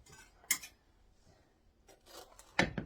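Knife slicing through Philly sliders on a board, two distinct crisp cuts about two seconds apart with faint rustling between, close and fairly quiet, no talking.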